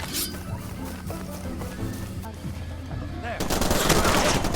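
Gunfire in the shooter game Far Cry 2, with rapid bursts of shots crackling close over game background noise, and a louder, denser volley near the end. Someone talks over the shooting.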